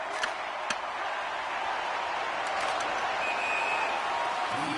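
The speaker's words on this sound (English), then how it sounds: "the home team giving the fans something to cheer and get loud about" A crowd of home fans roars inside a Tampa Bay Lightning arena in the NHL 26 video game as the Canadiens visit, a steady dense wash of cheering that holds through the moment.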